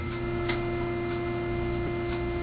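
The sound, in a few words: hum of vacuum tubes in Leslie 760 organ speaker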